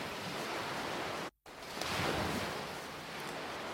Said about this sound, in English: The waves aren't big, so it's pretty nice actually.